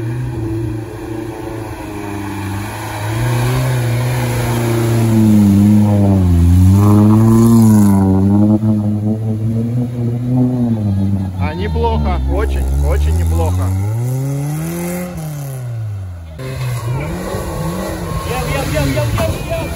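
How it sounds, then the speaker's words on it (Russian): The engine of a UAZ off-road vehicle revs hard during an off-road race, rising and falling in loud, close surges, with someone talking over it throughout. "Неплохо крутит мотор."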